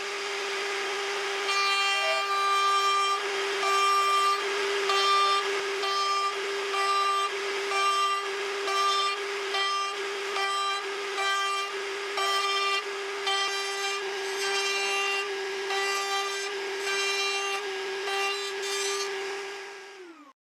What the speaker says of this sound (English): With this cool attachment, I make a rabbet on the back of the frame.